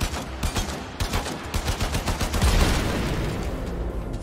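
Rapid gunfire rattles in quick repeated bursts in the video game Warframe, followed by a heavy boom and a lingering rumble, loud and close with no talking.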